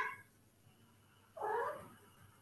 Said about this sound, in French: Ah, le chat a répondu.